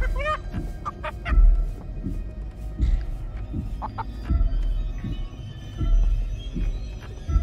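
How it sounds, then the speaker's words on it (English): A giant chicken in the video game Chicken Feet clucks and honks in loud, repeated squawks over rhythmic heavy thuds, like big running footsteps, continuing throughout. "Chicken was barreling down."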